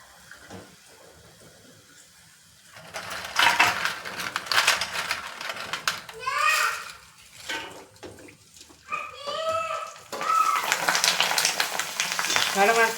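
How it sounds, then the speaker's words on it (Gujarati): Bhungla, crisp tube-shaped fryums, drop into hot oil and puff, a quiet start swelling into loud bubbling sizzle with crackles and splashy stirring bursts, close and steady. "હવે આપણે ભૂંગળા તળવાની શરૂઆત કરી દઈએ"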